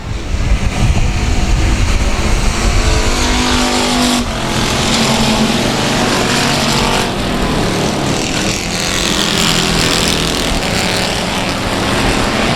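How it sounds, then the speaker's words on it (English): Race cars thunder around the track during a heat at South Texas Speedway, a dense, continuous engine roar with passing surges and wind rumble and no break. "Running in third, 39R, John Wilson, as we have one lap complete"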